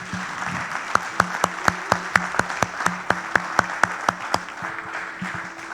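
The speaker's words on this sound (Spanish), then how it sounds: "Dale un fuerte aplauso al Señor." A church congregation claps along steadily to worship music, a strong rhythmic beat of sharp claps repeating for several seconds before fading into the band.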